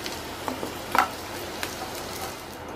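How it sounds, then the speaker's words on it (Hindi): Diced potatoes sauté in oil over a medium flame until light golden brown: a faint, steady sizzle with a few soft stirring clicks and one brief louder scrape. "मीडियम फ्लेम पे थोड़ा गोल्डन ब्राउन हो जाए तब तक आलू को हम सौते कर लेते हैं।"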